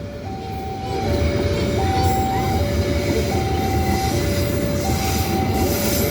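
The last set of passenger carriages of a train rolls past a trackside spot west of Madiun station, a loud continuous rumble with wheel squeal and a repeating two-tone horn-like whine throughout.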